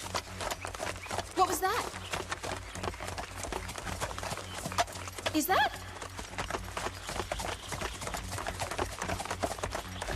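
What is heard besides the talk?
horse hooves clip-clopping, boy riding a horse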